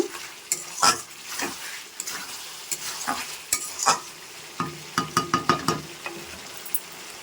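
Meat with whole garlic cloves frying in a pan, steady close sizzle broken by repeated scraping stirs and a few sharp clinks of a spoon against the pan.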